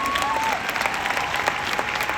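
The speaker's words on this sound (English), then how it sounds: "Give yourself a round of applause." Audience applause at a vision coach summit, a dense, steady wash of clapping filling the hall for a couple of seconds with no one speaking over it.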